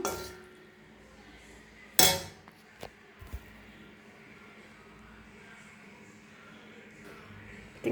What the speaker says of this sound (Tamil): இப்போ நம்ம பிளேட்டில் போட்டுக்கலாம்.